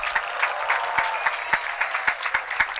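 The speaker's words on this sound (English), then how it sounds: "Would everyone please give our grandparents a round of applause?" A graduation crowd at Southridge High School in Beaverton, Oregon claps for the grandparents, loud and steady applause with individual sharp claps standing out rhythmically nearby.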